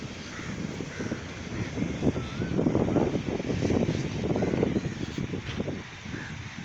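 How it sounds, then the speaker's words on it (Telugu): Several crows caw repeatedly at a beach over a broad outdoor wash of wind or distant surf, the calls moderately loud and overlapping. "రెండు కొంగలు ఉన్నాయి కదా కొంగలు కాకులు అన్నీ ఉన్నాయి"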